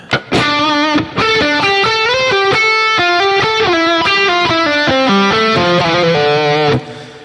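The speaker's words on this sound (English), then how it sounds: "We have the reverb, but the bulk of the guitar tone is sitting in the middle and it's mono." A distorted electric guitar plays a fast, continuous lead melody of sustained single notes, bathed in reverb that rings out briefly at the end.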